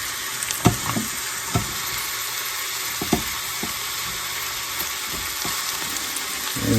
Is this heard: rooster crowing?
no